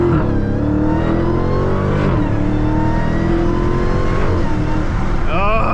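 Dodge Challenger Hellcat Redeye engine revving hard and climbing through gears, a loud, sustained supercharged roar with rising pitch sweeps and a shift near the middle, heard from inside the car with a brief voice near the end.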